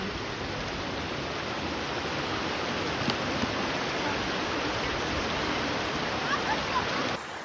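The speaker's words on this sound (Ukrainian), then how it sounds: "І водоспад." Steady, loud rush of a waterfall at Alcantara in Sicily, a continuous broadband roar among lava rock cliffs, close by and unbroken throughout.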